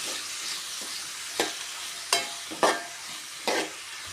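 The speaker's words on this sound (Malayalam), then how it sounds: "ഉള്ളി ഒന്ന് നന്നായിട്ട് വാടി വരാൻ വേണ്ടി" Onion, green chilli and curry leaves with a pinch of salt sauté in a pan: a continuous close sizzle punctuated by four or five sharp spatula stirs at uneven intervals.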